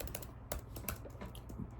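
Rapid keystrokes on a computer keyboard, a steady run of close, crisp clicks with a few louder taps, heard alone without talk.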